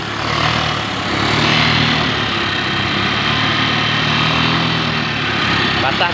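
A motorcycle engine that had stalled in floodwater runs again, idling steadily and loudly up close with a constant low rumble, while people talk over it.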